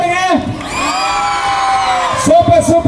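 A live audience at a mimicry show cheers and shouts a long drawn-out "oh" together, a loud sustained crowd vowel that swells and fades over a couple of seconds, framed by an amplified voice at the start and end.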